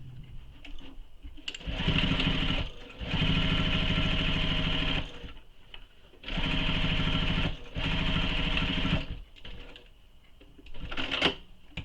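A sewing machine stitching the second row on a Danbury tote bag runs in several steady whirring bursts of a few seconds each, separated by short pauses, with nearby mechanical clicks and no talk.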